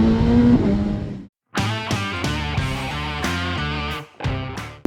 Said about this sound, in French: le plus terrifiant moteur de la production à une époque, 200 chevaux, 4 en ligne